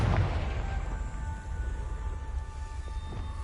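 A Confringo spell explosion in a video game, heard as a loud low boom at the start that decays into a rumbling blast tail with faint tonal game sounds ringing above.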